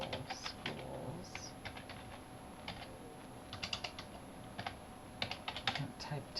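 Fingers tap on a computer keyboard in irregular close bursts of light clicks, pausing briefly between runs, with a faint background hum and no speech.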